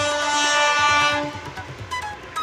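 A train passing close by, a loud sustained horn blast fading into rhythmic clickety-clack of wheels over rail joints.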